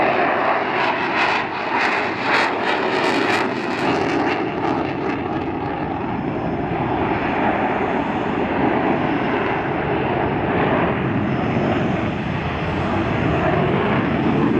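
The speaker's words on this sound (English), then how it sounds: "This is known as a dogfight, and you can see how the jet that's being chased is deploying flares to avoid getting shot by missiles." Saab Gripen fighter jets fly a mock dogfight at an air show in Sweden, one jet firing flares, their engines a loud, steady roar that holds on without a break, with no speech.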